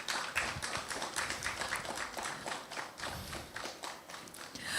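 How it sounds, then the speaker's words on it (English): Audience applause at a panel event on combating misinformation, a quiet, distant patter of clapping hands with an irregular rhythm and no talking. "Please, a round of applause for him as he joins us"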